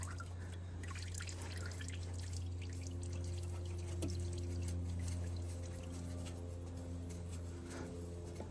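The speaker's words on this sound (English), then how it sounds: "And there is some oil draining out of there." Engine oil drains from a car's oil filter during an oil change, dripping and trickling in a faint, steady stream alongside a low background hum, with no talking.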